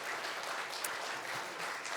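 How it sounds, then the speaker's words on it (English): Applause from the audience at a joint Lunar New Year community celebration, a soft, distant continuous patter of clapping with no talk. "give yourselves a round of applause"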